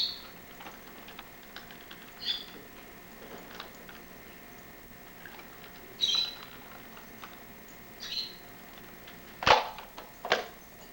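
A pet bird in the background lets out a few short, sharp squawks and clicks, scattered and irregular over a quiet room, the loudest two calls coming near the end.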